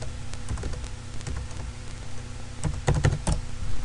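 Light clicking keystrokes on a computer keyboard, scattered irregular taps that come faster and a little louder toward the end, set against a steady low hum.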